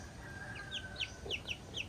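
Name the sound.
silkie chicken clucking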